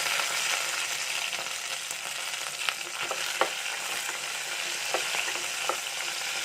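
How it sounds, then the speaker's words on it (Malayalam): A constant loud hiss of chopped okra frying in oil, broken by a few sharp clicks of a spoon against the pan. "ഈ വെണ്ടക്ക ഇതുപോലെ നുറുക്കിയത് നമുക്ക് ഇതിലോട്ട് ഇട്ട് കൊടുക്കാം."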